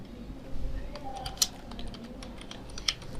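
Computer keyboard keys pressed in a quick shortcut followed by Enter during Maya 3D modeling work, a few soft, close clicks over faint room noise, with two sharper taps standing out.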